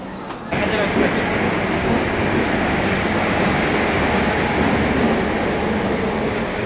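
Broad steady rumble of a train standing at a platform at Chennai Egmore, a dense continuous roar of rail and station noise that swells after a brief quieter start and holds loud throughout.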